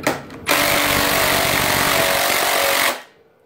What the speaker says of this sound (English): The Ryobi keeps cutting out.